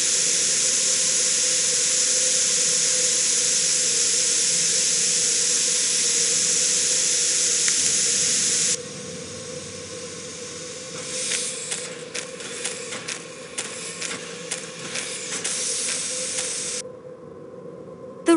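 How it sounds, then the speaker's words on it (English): Steam blasts loudly from a broken pipe on a train carriage in the Murder on the Orient Express video game, a steady broadband hiss for about nine seconds, then quieter sputtering bursts with faint rail rumble before cutting off. "This must be where the steam is escaping."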